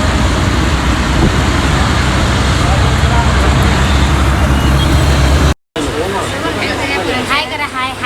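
Steady road and engine rumble from a moving auto rickshaw fills the clip, loud and constant, with a brief cut and faint voices near the end.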